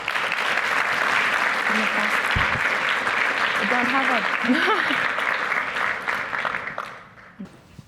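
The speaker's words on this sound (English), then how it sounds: "give a round of applause to the students" Sustained applause from a crowd for a student panel fills most of the clip, with a voice speaking briefly over it before the clapping fades out near the end.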